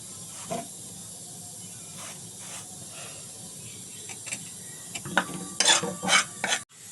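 Ingredients fry to golden in a very hot pan over medium heat for pasta, crackling with a soft sizzle while a spoon stirs and scrapes in scattered close clatters that grow busier toward the end.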